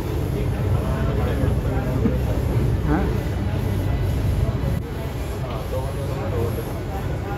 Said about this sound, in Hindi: तो guys, Chandni Chowk metro station पे आ चुके हैं